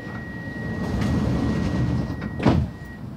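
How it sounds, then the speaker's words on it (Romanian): Doors of a Bucharest metro BM21 train closing on line M1, a steady rumble of the carriage with a single firm thud of the doors shutting near the end, close by and fairly loud. "Atenție, se închid ușile."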